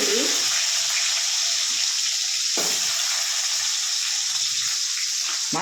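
Tomato and onion sizzle in hot oil in a pan, a steady, close frying hiss broken by a few brief stirring scrapes.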